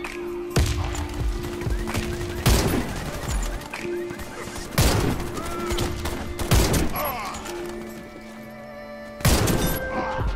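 Gunfire in the shooter game Warface, with sharp shots and short bursts spaced a second or two apart over a busy background of game effects, along with brief player talk.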